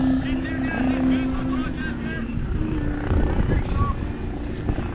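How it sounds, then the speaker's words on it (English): A helicopter drones steadily overhead, a low, continuous engine hum with faint background voices and outdoor noise beneath it. "Can hear that chopper overhead."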